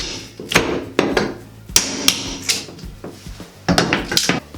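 Sharp hammer blows crack apart a fiberglass tub surround during demolition, about eight loud impacts in an irregular rhythm with brief rattles of breaking panel between them, close and without talk.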